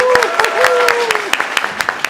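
Guests at a wedding reception clap in scattered, sharp claps over about two seconds, with a voice speaking over them.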